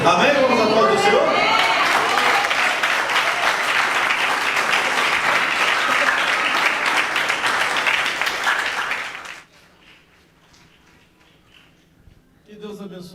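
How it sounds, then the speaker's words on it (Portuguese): Church congregation at a family service breaks into sustained loud applause with some cheering, holding strong for about nine seconds before cutting to near quiet; a voice speaks briefly at the end. "Vamos aplaudir o Senhor?"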